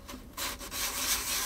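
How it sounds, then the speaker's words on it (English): Sandpaper is rubbed by hand over the varnished wooden surface of a violin, giving a steady, close, breathy scrubbing with brief dips between strokes and no talking. "Now I'll show you how to sand it."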